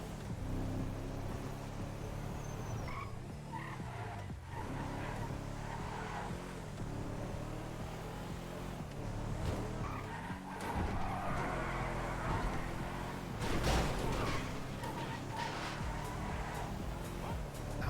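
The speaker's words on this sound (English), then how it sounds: "It's accelerating hard." A car accelerates hard in GTA with a continuous engine roar and tyre noise, steady and fairly loud throughout, with a brief rise in intensity near the end.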